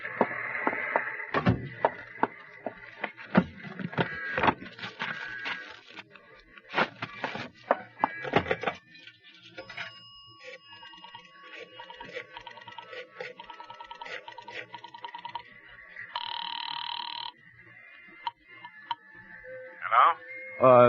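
A telephone is dialed with a series of quick clicks, followed by a few bursts of ringing tone and a faint line hum, in a classic radio drama setting.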